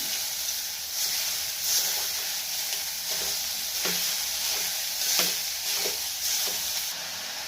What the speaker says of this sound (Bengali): আর এটাকে নাড়তে থাকবো এখন আমি